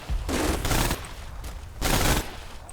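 German MG42 and MG34 machine guns fire in a World War II strategy game, two long, loud bursts of rapid automatic fire separated by quieter scattered shots and rumbling battle noise.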